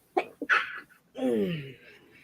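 A single sneeze bursts out close by, then a short voiced response follows after a brief pause.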